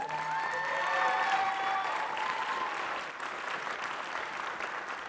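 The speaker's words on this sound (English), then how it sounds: "Can we give another round of applause?" Steady audience applause fills a gala benefit evening, continuous clapping from a large crowd that holds loud for several seconds, tapering slightly toward the end, with no talk over it.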